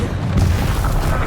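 A Confringo fire spell explodes in Hogwarts Legacy during a battle with Ranrock, a dense, sustained low boom rumbling steadily through the whole moment with no clear separate hits.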